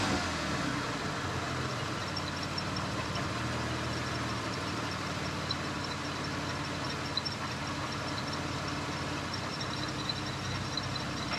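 A 1992 Dodge Stealth R/T twin turbo V6, checked for low oil pressure, runs at a steady idle with its engine note held up a little as if revved and sustained, a continuous near drone with no talk over it.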